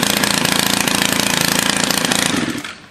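A Stihl FS110R string trimmer's small two-stroke engine runs loud and close in a rapid buzzing pulse at steady speed, then winds down and cuts off near the end.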